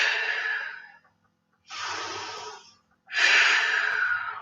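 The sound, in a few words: deep breaths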